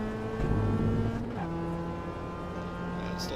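A race car in a racing sim at Okayama accelerates on throttle, its engine a steady droning tone that steps in pitch as it pulls through the gears. A voice talks over it.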